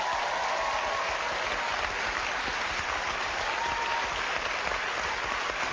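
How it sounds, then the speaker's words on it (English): An audience at a live paranormal investigation show gives a man steady, sustained applause, a dense even wall of clapping from a sizeable crowd, heard alone. "Give him a round of applause"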